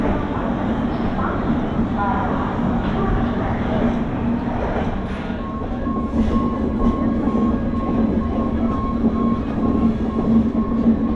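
Tamralipta Express on the Howrah to Digha run, heard from on board as a steady, loud rumble with clickety-clack wheel clatter and a faint squeal. Voices talk over it throughout.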